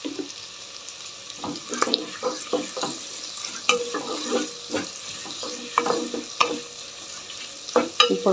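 Two thinly sliced onions fry toward golden brown for dal khichdi, with a steady sizzle and repeated scraping stirs of a spoon against the pan, heard close up.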